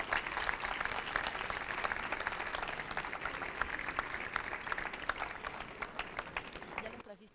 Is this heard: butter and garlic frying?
no